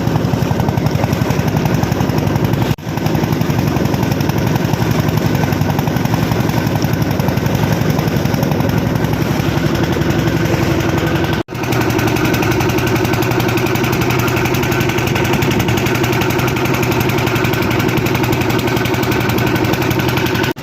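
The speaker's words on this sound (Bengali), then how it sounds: "বোট কিন্তু চলছে সব দুরন্ত গতিতে" A fishing boat's engine runs at full speed on a river in the Sundarbans, a loud, steady, droning roar that holds for the whole stretch with only two brief dips.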